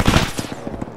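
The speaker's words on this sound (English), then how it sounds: "I hear gunfire." A short, close burst of rapid automatic gunfire in a combat video game, with sharp shots cracking in quick succession for about a second.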